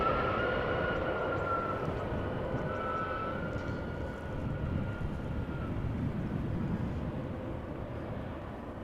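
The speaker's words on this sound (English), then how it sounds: "Next up is Scandinavian Airlines, flight 1549 A320 Neo, arriving from Copenhagen." Scandinavian Airlines Airbus A320neo arriving at Amsterdam Schiphol from Copenhagen, a steady broadband jet roar with a faint whining tone, sustained and fairly loud throughout with no pauses.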